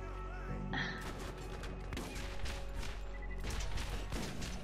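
Gunfire in the video game Borderlands, dense and continuous, with repeated blasts and rattling shots over a loud, busy game soundscape.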